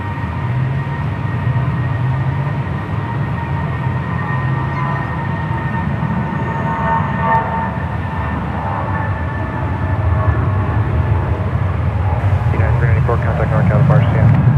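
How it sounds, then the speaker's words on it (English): A United Airlines Airbus A319 rolling down the runway for takeoff at San Francisco airport, a loud steady jet engine roar heard from a distance that swells slightly toward the end. "Next takeoff is United Airlines Flight 394 heading to Salt Lake City. It's an A319 rolling down"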